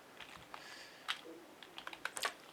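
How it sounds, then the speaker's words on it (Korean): A few computer keyboard keys, including the Windows key and R, are pressed in short separate taps, faint and close, with a small cluster of clicks near the end. "윈도우즈 키와 R키를 같이 눌러서 실행에"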